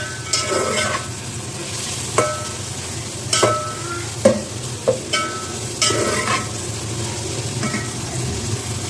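Chopped carrots fry in a pot over a medium flame for Afghani mutton pulao, with a steady sizzle broken by irregular scraping clinks of a spoon stirring. No voices.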